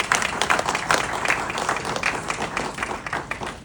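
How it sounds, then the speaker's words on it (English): An audience at an adaptive fashion event gives a round of applause, with dense, fairly loud clapping that holds steady and then fades slightly at the end. "everybody, please give another applause"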